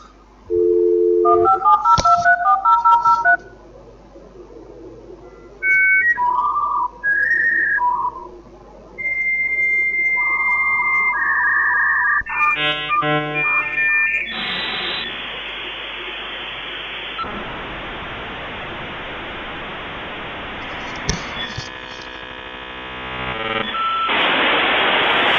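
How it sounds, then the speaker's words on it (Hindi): A dial-up phone modem connects to the internet: a sequence of DTMF dialing tones and beeps gives way to a screeching handshake of whistles, buzzing static and rising noise bursts, loud and alone. "जब आप शुरू में इंटरनेट इस्तेमाल करते थे तो आप फ़ोन मॉडेम के जरिए इंटरनेट इस्तेमाल करते थे, कनेक्ट होते थे, तो एक खास किस्म की आवाज़ आती थी"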